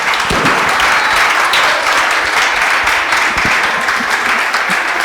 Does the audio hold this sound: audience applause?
yes